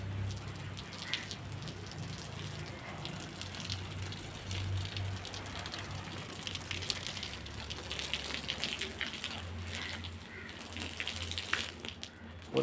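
Water gushes and splashes in a steady, soft stream from a hose, a continuous quiet hiss with no one talking.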